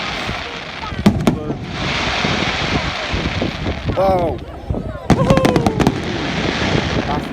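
Fireworks burst over Poole Quay in a quick run of sharp bangs and crackles, some close and loud, with whistling rises between them and excited voices talking over the display.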